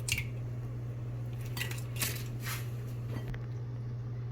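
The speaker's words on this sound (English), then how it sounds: "Now the next thing will be to crack the egg into this measuring cup which I'm using." An egg is cracked into a measuring cup, giving a few faint taps and clinks of shell against the cup over a steady low hum, with soft sticky squish sounds in between.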